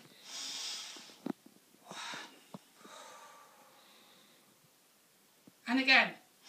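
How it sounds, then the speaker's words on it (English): Several children in a yoga class breathe in and out deeply, with long airy breaths and a breathy exhale near the end, plus scattered soft clicks and an adult voice speaking briefly. "Close your eyes, do some deep breaths."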